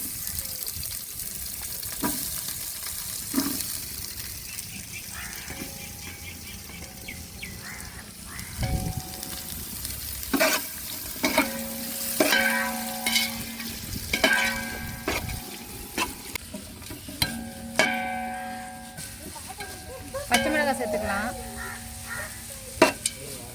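Cut onions frying in a pot for mushroom biryani, with a continuous sizzle under repeated scraping and clanking stirring strokes. The sound is close and moderately loud, with bursts of activity throughout.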